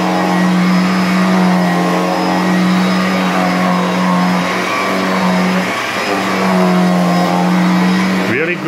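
An Electrolux Discovery 2 upright vacuum cleaner with a rebuilt original motor runs on carpet, a loud steady motor whine and airflow roar close by, dipping briefly before a sharp rising pitch at the end.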